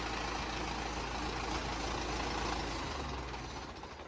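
A tractor engine runs steadily nearby as the tractor reverses, a low continuous rumble that eases off slightly toward the end.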